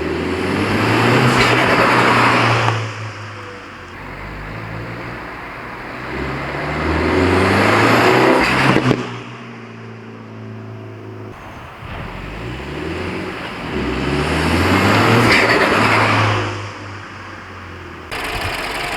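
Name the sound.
Mini JCW with Airtec induction kit pod filter, turbo noise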